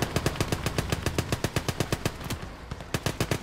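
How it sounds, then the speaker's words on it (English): Rapid machine gun fire in the WWII strategy game Gates of Hell, a steady loud burst of evenly spaced sharp shots lasting several seconds with a brief pause near the end, no voices over it. "Alright, come on, machine guns."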